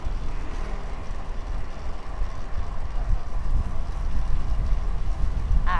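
Strong wind buffets the microphone during a fixed gear bike ride from Sta. Mesa to BGC, a steady loud roar of rushing air with low rumbling gusts throughout.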